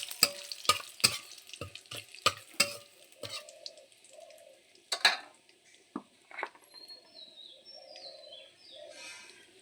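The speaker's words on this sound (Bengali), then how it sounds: "এখন ওই একই তেলে আর একটু তেল দিয়ে গোটা তেজপাতা, গোটা জিরে" Whole bay leaves and cumin seeds are dropped into hot oil in a home kitchen. A run of sharp clattering hits comes first, then a faint, quiet sizzle with soft chirps in the background.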